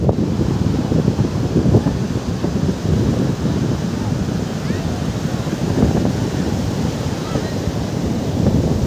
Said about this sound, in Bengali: গর্জন শুনুন সমুদ্রের খালি